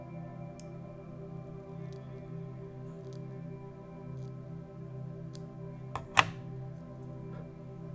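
Scissors make one crisp snip through fly tying material near the end, a single close cut standing out from a quiet, humming room with faint small clicks.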